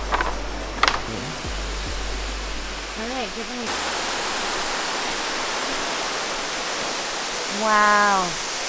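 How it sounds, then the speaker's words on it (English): Broadband rushing water of a waterfall in Bali runs steadily through the whole scene, with a few brief voices and low knocking sounds near the start and a short tonal call near the end. "We made it, Leaky Leaky Waterfall."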